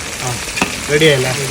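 Chicken pieces fry in a generous amount of oil for biryani, a steady close sizzle running throughout while a voice speaks over it.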